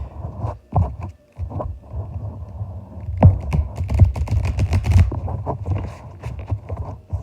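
Rapid irregular clicks and soft slaps of tarot cards being shuffled, close up, in uneven bursts with a low background hum.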